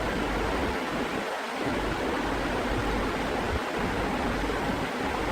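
Water pours and splashes steadily over a plastic bucket being rinsed clean of salt stains after scrubbing, a loud, continuous rushing wash.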